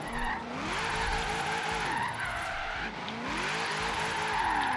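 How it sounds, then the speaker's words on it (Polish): Tires squeal steadily through a drift in Forza Horizon 3, a high-powered car sliding under a loud, revving engine whose pitch sweeps up and down across nearly five seconds. "I tutaj trzeba naprawdę powoli ten drift lecieć"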